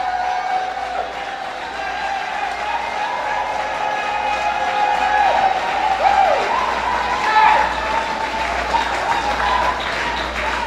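Large crowd applauds and cheers for political leader Dr. Janice Hodge, a dense, sustained wash of clapping with voices rising above it at a rally-style event.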